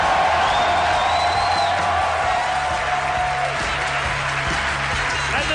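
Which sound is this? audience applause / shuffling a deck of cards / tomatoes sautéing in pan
audience applause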